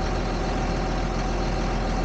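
A tractor engine idles steadily while warming up, a continuous low, rough rumble heard close and alone with no voices.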